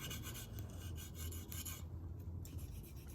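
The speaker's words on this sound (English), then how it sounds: "The 240 grit Veneve, you're just moving through." A knife blade strokes across a 240 grit Venev stone in quick, continuous abrasive rasps, close and steady, with a short lighter pass near the middle.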